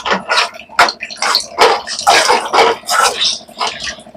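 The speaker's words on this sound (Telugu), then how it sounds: "మనం కొంచెం వాటర్, మనకి ఎంత గ్రేవీ కావాలో అంత వాటర్ పోసుకొని కలుపుకోవాలన్నమాట" Water splashing and gurgling in irregular bursts as it pours into prawn curry gravy in a pan, close and fairly loud, with no talking.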